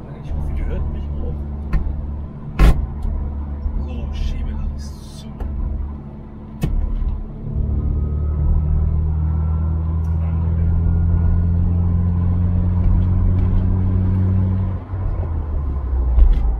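A VW Golf 1 GTI engine rumbles steadily while driving, its low drone rising in pitch as it accelerates, heard from inside the car along with a clunk and a person talking.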